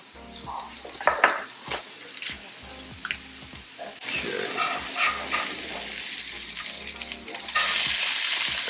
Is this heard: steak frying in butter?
yes